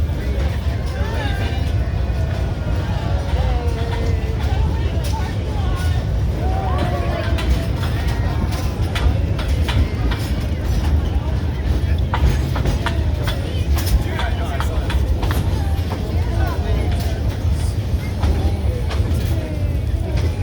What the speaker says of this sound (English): this old steaming locomotive coming around this big right-hand curve here